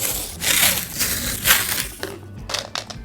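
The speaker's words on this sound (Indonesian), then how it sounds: "Dan sekarang seperti biasa kita bakal pasang tape supaya suaranya lebih maknyos." Tape being stretched and pressed down inside a budget Vortexseries Mono mechanical keyboard during a mod, giving close crinkling and crackling bursts in a few separate pulls.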